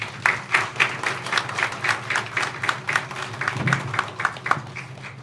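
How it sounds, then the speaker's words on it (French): Audience applause at a formal ceremony with speeches, a steady patter of hand claps rising and falling over about five seconds, moderately loud with no talking over it. "Applaudissez-vous."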